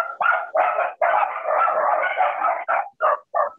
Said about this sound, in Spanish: Hay unos perritos por ahí.